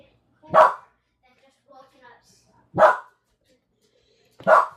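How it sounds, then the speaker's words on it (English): A dog barks three times, sharp and close, with long quiet gaps between each bark and a few faint soft sounds in between, indoors during a watercolour painting session. "Sorry about the dog."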